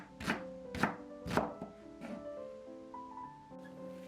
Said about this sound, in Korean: 대파 3분의 1대에 4등분 후 썰어주세요.